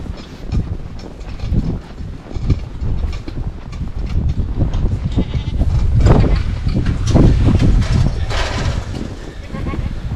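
Goats bleat several times on a farm in a winter cold snap, with irregular calls rising over a rough, noisy background and a person talking intermittently.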